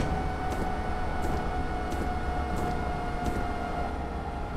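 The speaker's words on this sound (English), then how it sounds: "the train is making electric sounds" A diesel-mode train in Train Simulator 2017 plays electric traction sounds: a steady tonal whine and hum, with faint regularly spaced clicks, and no talking.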